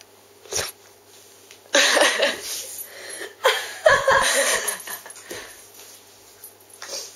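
A female dog whimpering indoors in a bathroom, several short whiny bursts with quieter gaps between them, close by and with no speech.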